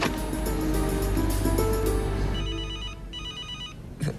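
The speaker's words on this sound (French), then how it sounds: "Votre manteau est en train de sonner." A mobile phone rings from inside a coat pocket, its electronic ringtone melody repeating loudly and close for several seconds before cutting off near the end.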